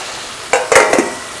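Spices like red chilli, cumin, turmeric and garam masala stirred into tomatoes in a frying pan for beef karahi, giving close scraping stir strokes over a steady sizzle, with a few quick metallic clinks.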